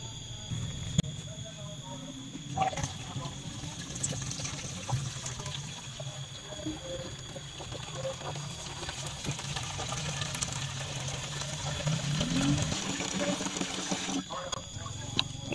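Liquid organic fertilizer pours steadily from a container onto young papaya seedlings in soil, a continuous splashing gush that stays close and fairly loud throughout, with a brief change in flow near the end.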